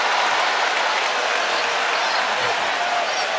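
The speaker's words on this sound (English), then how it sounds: "The crowd just saw the instant replay here. You hear their reaction that this one shouldn't count." Basketball arena crowd in a Kentucky versus LSU game reacting to an instant replay, a dense, loud, sustained roar of many voices filling the space without a break.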